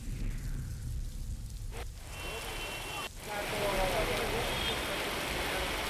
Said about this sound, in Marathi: पुण्यातील उपनगर आणि शहरात पावसाला सुरुवात झाली